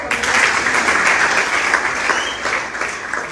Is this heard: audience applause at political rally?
yes